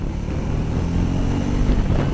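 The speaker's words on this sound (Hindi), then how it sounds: "तो चलिए सेकंड गियर से पिकअप लेंगे" A Triumph Scrambler 400X motorcycle pulling away from second gear, a steady, loud low engine drone that builds slightly, mixed with heavy wind rush and no talking.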